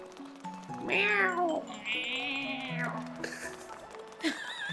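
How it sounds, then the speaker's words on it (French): A cat meowing in the video game Super Mario 3D World, with a few drawn-out, wavering meows and yowls, loud and clear over quiet game sounds. "C'est le chat le plus creepy du monde"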